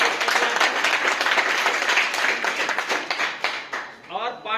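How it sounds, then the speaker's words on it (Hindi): An audience claps loudly to welcome a successful Bihar police exam candidate, busy overlapping applause fading out near the end as a voice begins speaking. "थोड़ा जोरदार तालियों से इनका स्वागत कीजिए।"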